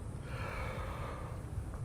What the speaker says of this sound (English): What I want people to do right now is just to yawn.